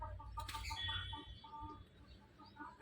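A young fighting rooster gives soft, repeated clucks in short bursts, close by and quiet, with a brief rustle or flap partway through.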